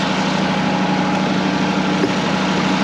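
A John Deere 2038R compact tractor engine runs steadily at a constant idle, a continuous close, even drone with a low hum and no talking over it.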